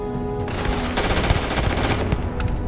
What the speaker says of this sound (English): So someone's shooting at me from behind